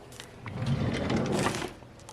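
A kitchen junk drawer slides open with a rolling, rattling scrape, its contents clattering as it moves, lasting about a second before settling.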